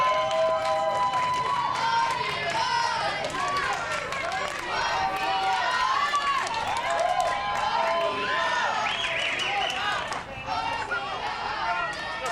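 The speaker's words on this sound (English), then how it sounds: "Love the cheering in the dugout, the RBI chants." Little League children cheering and chanting in a baseball dugout at a regional tournament game, a lively, steady sing-song chorus of young voices throughout, with an announcer speaking over it.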